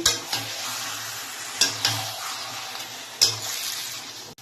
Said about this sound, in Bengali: চলো এবার ভালো করে মিশিয়ে নেব।